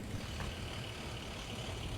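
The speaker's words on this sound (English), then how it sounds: "Seems to be there's a lot of big trucks right here." Big trucks roll past on Beach Road, Avenida Navarra, near Siesta Beach, making a steady, loud low rumble of heavy engines and road noise that fills the whole stretch with no voices.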